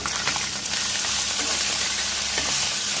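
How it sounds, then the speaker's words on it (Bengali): Puti fish fry in hot oil with a steady, loud crackling sizzle that persists throughout, punctuated by a few sharper pops and spatters. "ওদিকে আমার পুঁটি মাছ ভাজা হয়ে গেছে"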